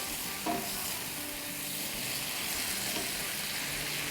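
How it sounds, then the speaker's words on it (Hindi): Onions being stirred in a frying pan while preparing tandoori chicken yogurt salad: a steady, close sizzle runs throughout, with a couple of soft utensil scrapes. "अनियंस को भी थोड़ा हिला लेंगे"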